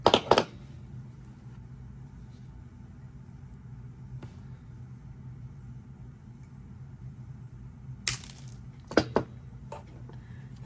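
Small wire cutters snipping a gold head pin while making a beaded bracelet: a sharp snip at the start, then quiet room tone, then a couple of light clicks and taps near the end.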